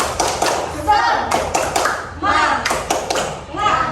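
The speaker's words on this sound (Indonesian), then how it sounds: "Nah, Ibu contohkan terlebih dahulu ya. Tepuk semangat." A teacher demonstrates a rhythmic 'tepuk semangat' clapping pattern in a classroom. Bursts of hand claps and taps come in quick groups, close and fairly loud, with a voice audible at times.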